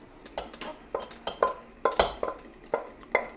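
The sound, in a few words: stirring oats with fruit in a pan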